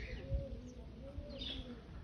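Soft pigeon coos from KTM-breed pigeons with young birds, a few low faint calls over a steady windy background.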